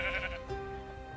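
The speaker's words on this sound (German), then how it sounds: "Hallo Schaf." A sheep in the video game Minecraft gives a single loud, close bleat that wavers for about a second, with faint background game sound.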